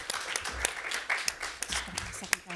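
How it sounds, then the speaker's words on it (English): Scattered audience clapping fills the room at a session on water, health and climate in Africa, a moderate, somewhat thin round of applause with a voice speaking over it. "I'm sure we can do a warmer round of applause"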